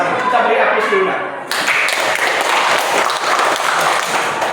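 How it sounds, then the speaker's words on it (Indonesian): A class applauding at the end of an Islamic studies lesson. Dense, steady clapping from many hands starts about a third of the way in and carries on loud, with a teacher's voice heard briefly before it. "Kita beri aplaus dulu, Nak."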